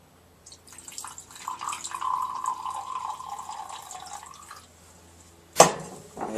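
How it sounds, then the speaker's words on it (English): Deionized water is poured into a 10 ml sample of phosphate bath for an iron test, a steady trickling stream lasting several seconds before stopping, followed by a brief sharp clink of glassware. "We'll add 50 ml of deionized water."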